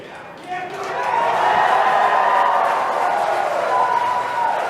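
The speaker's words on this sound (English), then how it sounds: "you can hear some really loud cheering in the room" Loud cheering and crowd noise fill a room as a SpaceX Crew Dragon launch escape is initiated, a sustained roar building after a brief quieter start, with voices mixed in.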